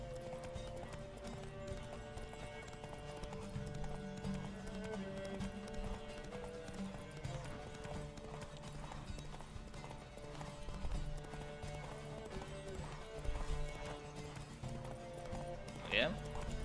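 Hooves of a galloping horse racing in The Witcher 3 pound in a steady, rapid clip-clop throughout, set under game music and someone talking over it.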